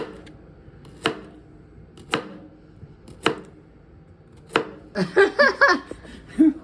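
A knife chops radish slices for fish tacos in a home kitchen, making four separate crisp thunks about a second apart, followed by light laughter and chuckling.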